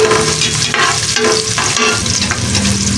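Garlic and onion sizzle steadily in a hot pan while being stirred, a continuous close frying hiss with occasional scraping, cooking down as the base for chicken sinigang.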